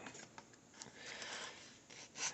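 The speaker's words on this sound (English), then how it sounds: "So I just take a heavy grit sanding block," Quiet back-and-forth rasping of a heavy-grit sanding block on wood, soft strokes repeating in an uneven rhythm.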